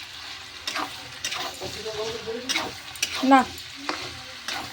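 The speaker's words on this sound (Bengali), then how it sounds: "বন্ধুরা তো দেখো আমি এটা ভালো করে কষে নিচ্ছি" Spice paste with red chilli and goat meat fries in a pan while being stirred: a wet sizzle with irregular scraping and clattering strokes, and a voice briefly speaks.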